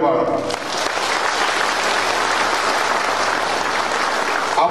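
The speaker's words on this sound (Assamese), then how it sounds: "এই তিনিওজনৰ কাৰণে এটা ডাঙৰ দীঘলীয়া হাত চাপৰি মাৰক" A crowd at a Mission Basundhara land-deed distribution event in Duliajan gives a long, loud round of applause for the dignitaries, sustained, dense clapping filling the whole stretch after a brief spoken phrase at the start.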